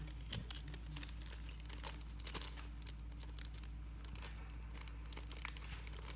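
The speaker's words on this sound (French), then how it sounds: "elle a fermé le petit ziploc avec une petite fleur à la colle" Small plastic ziploc bag being handled up close, giving steady soft crinkling and crackling with frequent brief taps throughout, over a constant low hum and no talking.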